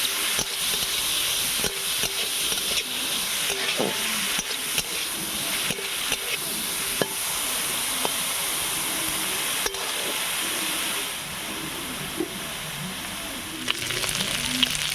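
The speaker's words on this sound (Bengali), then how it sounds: "তো চিংড়ি মাছটা ভাজার জন্য আমি কড়াতে তেলটা দিয়ে দিচ্ছি" Prawns sizzling in hot oil seasoned with salt and turmeric in a wok, a steady bright frying hiss with occasional pops and spatters, close and continuous with no talking.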